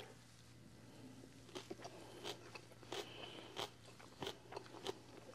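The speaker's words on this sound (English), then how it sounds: "Very crunchy, very refreshing." Crisp, crunchy bites and chewing of a summer apple slaw with pine nuts, a series of sharp close crunches repeating every half second or so over a steady low hum.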